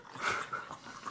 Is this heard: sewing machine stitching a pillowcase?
no